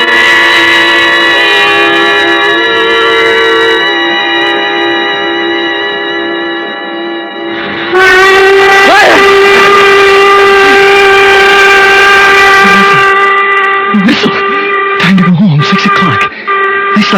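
A long steam-era train whistle sounds steadily in a radio drama, then a train rushes past loudly with clattering wheels and further whistle blasts, alone without talk.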